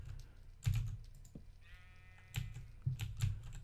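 Sheep in the Minecraft Sky Factory modpack bleat a couple of times amid frequent computer keyboard clicks and taps, the bleats thin and quiet against the clatter.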